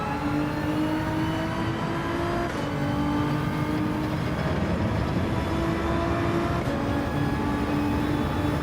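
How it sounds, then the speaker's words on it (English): Ferrari race car in a VR racing game roaring steadily at high revs, a loud continuous engine drone with tonal harmonics that shift briefly around gear changes, with no talking. "The Ferrari seems to be an absolute beast."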